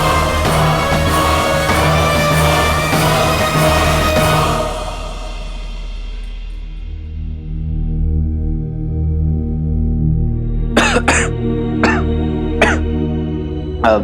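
Several sharp coughs come in a quick irregular burst near the end, after a long stretch of dense, droning sound that drops away.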